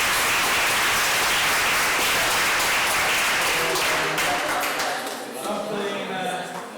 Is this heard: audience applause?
yes